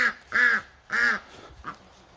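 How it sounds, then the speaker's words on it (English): Several loud, nasal squawking calls from chickens in quick succession close by at a mower repair shop, followed by a fainter one, clucking and crying out. "don't mind the chickens there"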